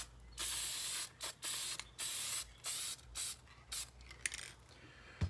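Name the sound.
spray paint can misting Corvette splitter and wing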